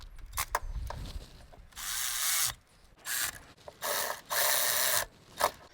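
Power tool bursts tightening the oil pump bolts on a Toyota Tercel engine, several loud whirring runs of one to two seconds each with short clicks and pauses between them, close by.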